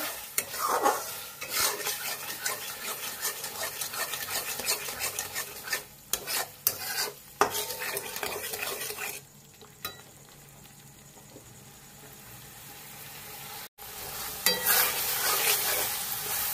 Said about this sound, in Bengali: এবার অল্প চিনি দেব, দিয়ে এগুলোকে খুব ভালো করে কষাতে হবে